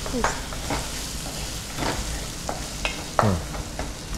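Peanuts fry in a pan with a gentle sizzle, interrupted by several sharp scraping stirs of a spoon against the pan.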